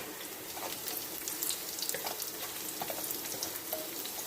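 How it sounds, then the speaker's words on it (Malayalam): Dried red chillies frying in hot oil, a dense crackling sizzle with small pops throughout, steady and moderately loud at close range. "നമ്മുടെ വറ്റൽമുളക് ഇടേണ്ട സമയമായി വറ്റൽമുളക് ഇട്ട് കൊടുക്കും"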